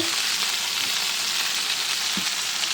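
Potatoes frying in a pan, a steady, even sizzle of hot oil that fills the whole stretch without a break, close and fairly loud, with no one speaking.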